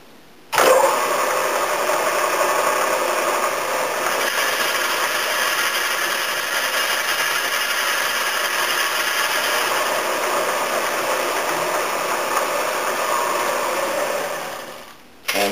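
A lathe or boring machine cuts a counterbore for the flange of a cylinder sleeve, giving a steady, loud mechanical hum and whine that holds evenly for about fourteen seconds, then stops. No talk is heard.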